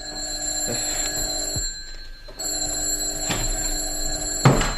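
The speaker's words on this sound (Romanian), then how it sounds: "N-auziți că sună telefonul?" A phone or bell-like electronic ringing repeats in steady bursts, fairly close, with a brief quiet gap partway through and a sharp knock near the end.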